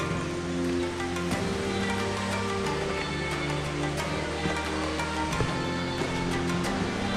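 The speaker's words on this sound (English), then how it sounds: "our own private waterfall. Look at this." A hidden natural waterfall at a wild swimming spot gives a steady, broad rushing roar of falling water that continues unbroken throughout, close and full.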